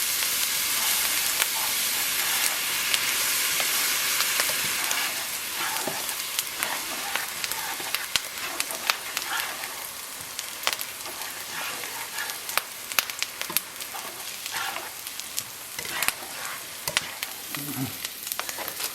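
An onion and mushroom sauce sizzles and hisses in a pan as milk is poured in. Loud steady frying settles into softer bubbling with occasional stirring clicks, close up.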